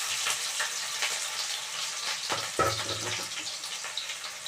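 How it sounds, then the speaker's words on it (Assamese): Onions and chillies hiss and sizzle in a pan with panch phoron, part of an Assamese broccoli dish, a steady broadband frying crackle with a brief louder clatter midway and no voices. "জলকীয়া আৰু পিঁয়াজখিনি ভাজি লাগিলেই"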